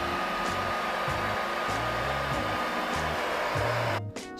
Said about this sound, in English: the PS4 would have a noticeable fan noise on graphically intense games